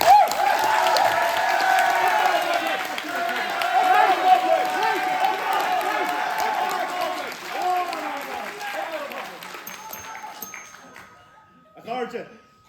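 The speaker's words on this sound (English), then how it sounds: "can I get a big round of applause for Morocco O'Flaherty?" Sustained applause from a large crowd at a debate, loud and steady, gradually thinning out with a few scattered claps near the end.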